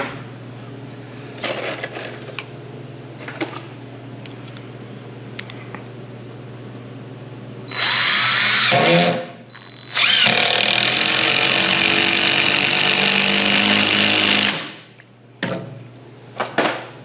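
A DeWalt power multi-tool drives screws into a partition wall used for plastic sheeting. After a few light knocks and handling sounds it whirs loudly in two close bursts, a short one and then a long steady run.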